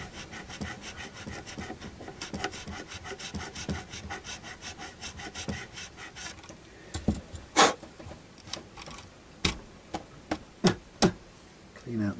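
Fret file rubbed along the frets of a Harley Benton JA 60 guitar, a steady close scratchy rasping for several seconds, then sharper separate strokes and knocks.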